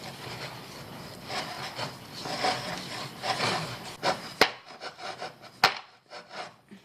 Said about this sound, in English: Just add the rest of your flour and keep mixing.